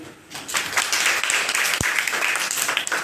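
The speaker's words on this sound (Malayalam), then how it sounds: "എല്ലാവരും ഒന്ന് കൈയടിച്ച്" An audience claps at a silver jubilee celebration, a dense, steady wave of applause that swells in after a quiet start and holds at full strength throughout, with no one speaking over it.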